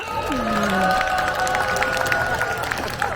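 Crowd at a rally calling for President Yoon Suk-yeol's impeachment in the Chungcheong region applauds and cheers a singer, a dense, steady wash of clapping and voices mixed with tonal sounds throughout.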